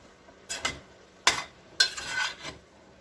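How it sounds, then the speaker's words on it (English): A spoon scrapes and clinks around a pot of homemade chili in a few short, soft strokes, close by and with no voices. "let me stir this up just a little bit"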